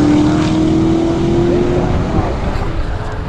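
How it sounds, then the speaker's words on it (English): A Maserati race car roaring past on the Daytona Speedway track during a track day, loud and close with a high engine tone sliding gradually upward as it goes by. "Listen to this Maserati."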